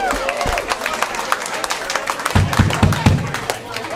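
A club show crowd cheers and claps, a steady mass of applause under a loud voice talking over it, with a few sharper claps rising near the end.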